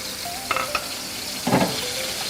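Spices fry in hot oil with a steady bright sizzle, broken by a few short scraping stirs of a utensil in the pan, close and without talk.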